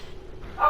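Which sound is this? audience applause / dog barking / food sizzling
dog barking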